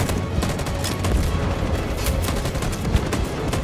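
Rapid gunfire in Detroit: Become Human, a dense continuous fusillade of overlapping shots, loud and sustained throughout with no pauses and no talk.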